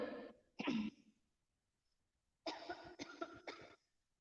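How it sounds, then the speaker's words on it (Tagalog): Close, harsh coughs: one or two quick coughs, a pause of silence, then a rapid run of three or four more coughs. "Inuubo ako masyado."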